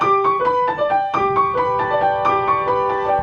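Keyboard-like notes playing a 5 against 3 polyrhythm, a bright interlocking pattern of evenly spaced pitched tones repeating in two cycles, close and clear with no talking.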